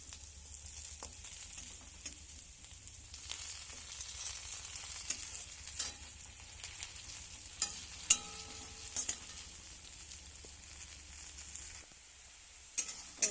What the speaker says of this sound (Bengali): একটু ভাজা হোক ভালো করে।